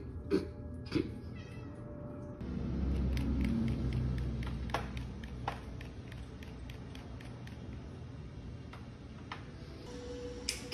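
Cat meows and soft ticking clicks from the Stray video game on a PS5 play through a TV, sounding as scattered short sharp taps and calls over a steady low background hum.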